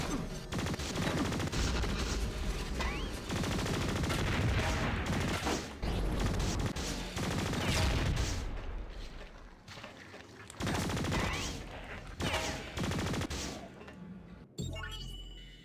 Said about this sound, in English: this flamethrower is so good, chat. It hits all the time.